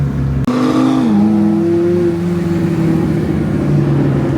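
Two Koenigsegg supercars cruise together in a convoy, their engines producing a loud, steady droning note that rises briefly in pitch and then holds, with no talk over it.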